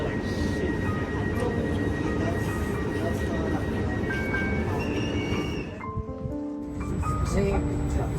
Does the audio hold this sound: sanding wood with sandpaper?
no